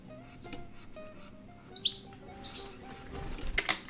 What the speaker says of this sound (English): You guys are getting the full bird soundtrack.